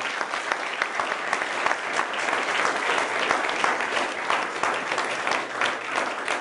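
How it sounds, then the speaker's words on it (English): Audience applause at the close of a lecture on the indirect effects of humans on native species and ecosystems: dense, steady clapping that fills the whole stretch at an even, moderately loud level, with no talking. "Let's give Peter a big round of applause for that"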